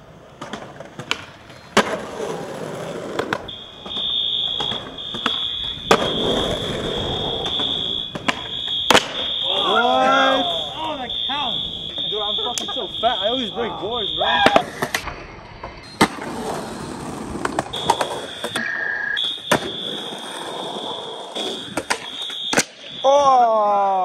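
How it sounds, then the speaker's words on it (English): A building's fire alarm sounds on a weekend: a steady, loud, high electronic tone that runs nearly throughout, pausing briefly, over skateboard wheels rolling and clattering, with some voices. "the fire alarm has been going off for like 15 minutes now, and I have no idea why."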